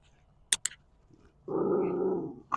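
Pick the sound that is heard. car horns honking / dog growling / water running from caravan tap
dog growling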